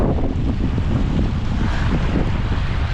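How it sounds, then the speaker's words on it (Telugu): Strong wind buffets a small fishing boat out on rough water, a loud, constant roar of gusts and crashing waves close to the microphone, with no voices. "ఘోరమైన తడుతుంది, గాలి వస్తుంది బాగా."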